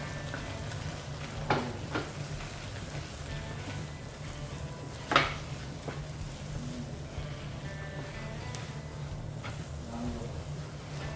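Roasted rice flour dough for kolukattai is stirred in a pot over moderate heat, giving a faint soft sizzle with a few sharper scrapes and taps against a low steady hum, and no one speaks.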